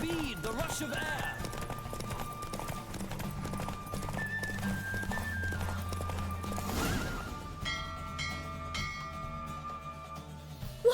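Galloping horse in The Witcher 3 pounds out fast clip-clop hoofbeats with whinnies, backed by game music and faint bell tones, as characters talk over it.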